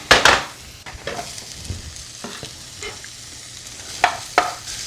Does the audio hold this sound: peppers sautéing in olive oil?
yes